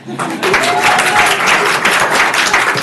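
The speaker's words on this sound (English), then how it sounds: "You can clap for that." Loud clapping from an audience in a city council chamber, many hands applauding steadily and continuously close to the microphone, with a brief voice near the start.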